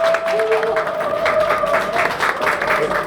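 An audience at a press conference supporting presidential candidate Kim Moon-soo claps steadily for about three seconds, a close, continuous patter of applause while a speaker's voice carries over it.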